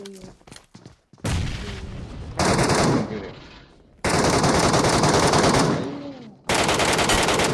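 Gunfire in the PUBG game plays in bursts of loud, rapid automatic shots with short gaps between them, with a few single shots at the start.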